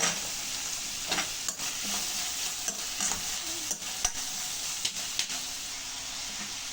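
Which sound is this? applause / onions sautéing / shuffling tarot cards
onions sautéing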